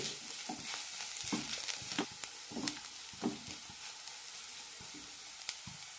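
Onions and green chillies sauté in a pan with chilli and turmeric powder, giving a soft, steady sizzle broken by irregular scraping stirs and small crackles, quiet and close.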